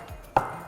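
A knife cuts through a banana into a cutting board, making one sharp, close tap with faint softer cuts around it.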